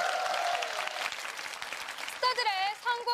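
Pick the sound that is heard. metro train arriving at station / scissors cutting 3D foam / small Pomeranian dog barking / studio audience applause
studio audience applause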